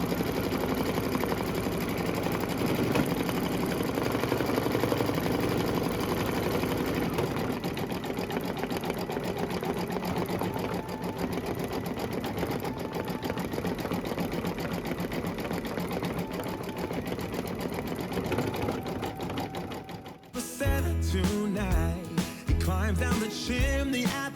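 An embroidery machine sewing satin stitches runs as a loud, steady, rapid mechanical hum for about twenty seconds, then slows into a few separate chunky stitch thumps near the end.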